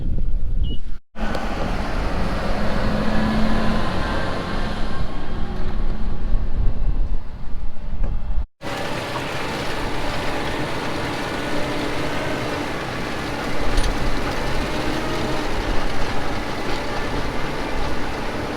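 A new sugar beet harvester works the headlands of a beet field, giving off a steady low machinery rumble at moderate distance with wind noise over it. The sound breaks off briefly twice and then continues evenly.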